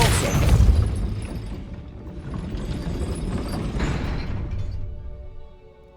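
A Depulso spell is cast in the Hogwarts Legacy video game, giving a heavy whooshing boom at the start that fades into rumbling, creaking mechanical movement before tailing off, with no talk.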